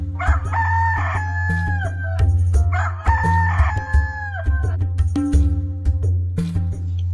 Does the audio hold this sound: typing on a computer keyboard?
no